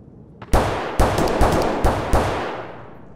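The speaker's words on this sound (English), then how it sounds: "Those gunshots weren't directly in front of me" Five sharp video game gunshots in Escape from Tarkov ring out in quick, uneven succession, each loud crack followed by a short reverberant tail fading away.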